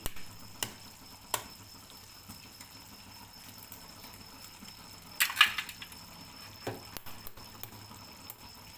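Four eggs cracked into a simmering broad bean curry, poaching undisturbed in the pan: quiet bubbling with a few soft clinks and taps, one sharper scrape near the middle.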